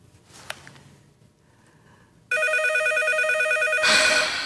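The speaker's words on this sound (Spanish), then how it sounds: "Será la última vez que responde ese teléfono." A telephone rings with a loud electronic warble, sounding in a steady repeating pattern after a quieter stretch with faint clicks and room noise.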